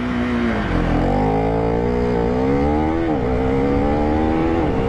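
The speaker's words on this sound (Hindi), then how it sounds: "मैं लॉन्च करता हूँ डायरेक्टली इस बाइक को" A KTM Duke 390 motorcycle engine revs hard during a launch, its loud, close tone climbing in pitch, dipping briefly at a shift, then rising again.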